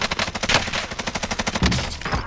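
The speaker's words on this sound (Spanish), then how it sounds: "está disparando el helicóptero" A helicopter fires its machine gun in a video game, a rapid steady stream of loud close bursts repeating about ten times a second, briefly broken by a heavier thump near the end.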